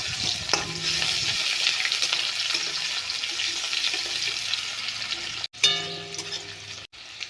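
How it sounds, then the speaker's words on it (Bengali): Whole cumin, chopped onion and green chili frying in hot oil in a pan for ghugni, a continuous bright sizzle with occasional stirring clinks and two brief breaks. "তেলটা গরম হয়ে গেছে এখন আমি গোটা জিরা ফোড়ন দিব দিয়ে দিলাম পেঁয়াজ কুচি আর কাঁচা লঙ্কা"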